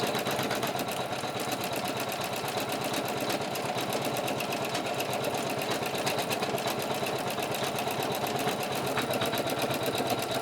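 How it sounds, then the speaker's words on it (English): An embroidery sewing machine stitches a burgundy section of a vestment panel, its needle chattering in a fast, even, continuous rhythm close by, with no voices. "it will have to sew the burgundy again when it gets to here because it couldn't sew that because the black had to be sewn first"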